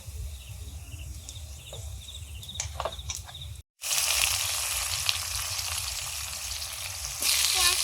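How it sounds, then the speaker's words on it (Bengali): Dry chillies, cumin and whole garam masala tempered in hot oil crackle and sizzle, then a sudden louder, dense hiss swells as the spices hit the oil, close and steady. "ফোড়নে দিচ্ছি শুকনো লঙ্কা জিরে আর গোটা গরম মশলা"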